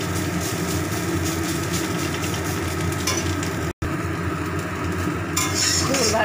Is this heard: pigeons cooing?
no